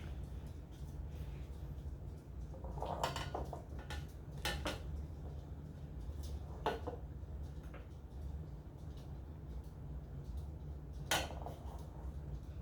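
Almond buns are cut in a pan in a home kitchen, giving scattered light clinks and scrapes of a knife against the pan over a low steady background hum, with no talking.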